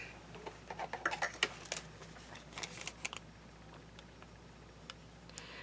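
Paper being trimmed with scissors for a collage journal, a quiet scatter of small snips and ticks, clustered near the start and then thinning out, faint over a soft background hiss.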